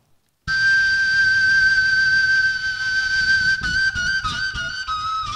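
A tilinkó, the Hungarian folk flute, plays a long, steady, piercing whistle-like tone that swells and wavers like wind, loud and close and heard alone, its pitch shifting slightly near the end.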